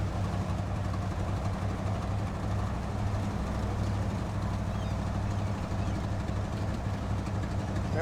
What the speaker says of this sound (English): The engine upgrade totally transformed this thing.